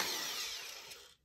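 Power drill driving into a shoe to attach the heel during sandal making, a steady close whine lasting about a second before cutting off abruptly.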